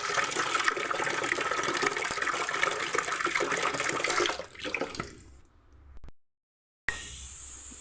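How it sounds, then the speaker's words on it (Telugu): Water pours and splashes steadily as a silk saree is soaked and washed in a tub, a loud continuous gush that cuts off after about five seconds, falls silent, then briefly resumes. "చీర అయితే ఇలా నానబెట్టేసుకుంటున్నాను"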